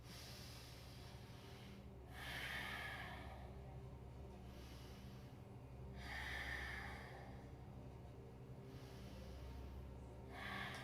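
Slow, deep breathing during a gentle yoga flow: three soft, airy breaths swell and fade at even intervals over a quiet, steady background.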